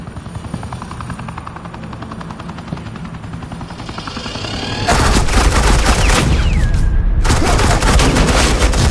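A helicopter drones steadily, then dense, rapid suppressing gunfire erupts and continues loudly over the rotor noise in the Batman: The Enemy Within video game.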